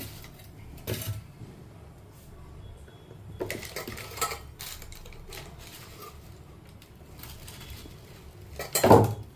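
Chana dal frying in peanut oil in a pan, giving intermittent crackling and sizzling bursts with a louder flare near the end, over a low steady background hum.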